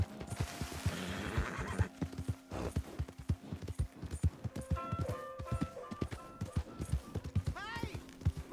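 A horse neighs loudly and its hooves clip-clop in a steady beat close by, with a whinny rising near the end and some people talking in the background.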